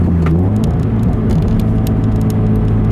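A Subaru BRZ engine runs close and loud, its low tone rising and falling with throttle blips for rev matching while downshifting, with faint clicks and rattles on top.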